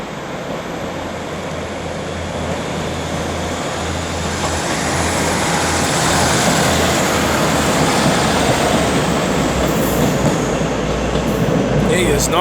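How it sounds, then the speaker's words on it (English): ScotRail 156431 pulling away from platform 6 at Glasgow Queen Street, a diesel engine rumble building in loudness as it accelerates, with rising rail noise and hiss, close by and continuous, a faint squeal near the end. "getting ready to depart off platform number 6 will be 156431 with the 1203 ScotRail service to Anniesland"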